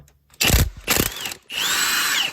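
A power tool loosening a 6mm Allen bolt on the CV axle flange of a Mk4 Volkswagen Jetta or Golf: two short loud whirring bursts, then a longer steady whine, close up.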